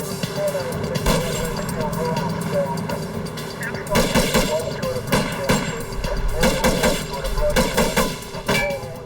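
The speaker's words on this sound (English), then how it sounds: "the driver pulls out a rifle and starts shooting" Rifle gunfire from a van driver during a police shootout at a roadside stop, heard as repeated loud sharp bursts over a dense, noisy background of commotion and other firing.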